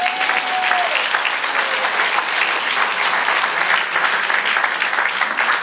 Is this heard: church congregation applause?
yes